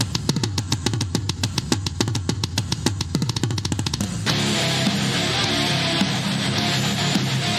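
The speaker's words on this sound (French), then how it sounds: "Démarrage du moteur." An engine cranks in a rapid run of rhythmic turnover pulses for about four seconds, then catches and settles into a steady, loud running drone.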